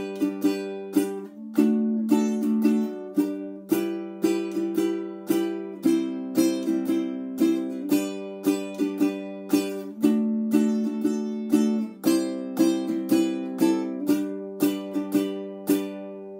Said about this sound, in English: And within the song itself, it's going to sound like this.